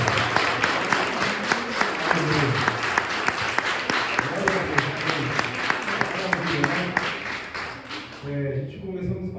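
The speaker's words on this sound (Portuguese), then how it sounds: "eu quero as palmas do Senhor. A mais forte que tem essa mensagem." Church congregation breaking into strong, sustained applause, a dense wash of many hands clapping with a few sharp claps standing out, fading near the end as a voice begins.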